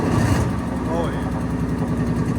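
Deep, loud rumble of a Ford Mustang GT 5.0L V8 running on an E85 tune with headers and a Corsa Xtreme exhaust, idling steadily close by with a brief blip, while people talk over it.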